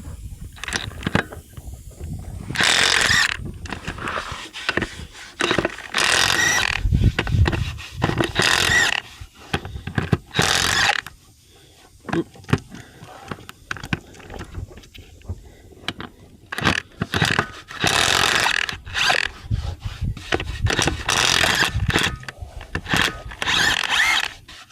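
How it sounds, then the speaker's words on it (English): An impact wrench fires in repeated short hammering bursts while removing lug nuts from a Kubota tractor tire, loud and close, with scraping and clattering handling noises between the bursts. "now I've got to grab my impact wrench, wherever it is, so we can get that tire off the Kubota."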